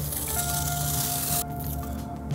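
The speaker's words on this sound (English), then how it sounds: "it's not dry yet, but I want to peel it off to see how it looks" Still-curing silicone being peeled off a shirt by hand, a close, steady wet squishing and tearing hiss that cuts off abruptly partway through, leaving quieter faint rustles, with no voices.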